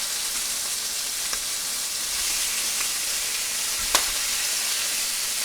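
Pieces of chicken fry in a pan with a steady, close sizzling hiss, an even crackle broken by a few small clicks and one sharp tap near the end, no voices.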